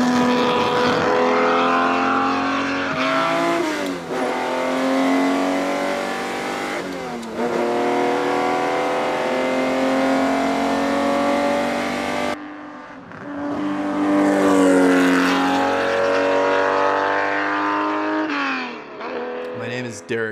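A Ferrari 250 GTO (1964 Series 2 body) engine roars loudly while driving, a sustained rich harmonic blare that rises and falls through gear changes, with someone speaking over it at times.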